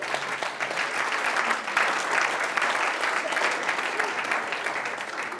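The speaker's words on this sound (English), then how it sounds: "Let's give him a round of applause." Sustained audience applause fills the room after a question-and-answer prize giving at a motivational talk, a steady dense clatter of clapping hands throughout with no pause.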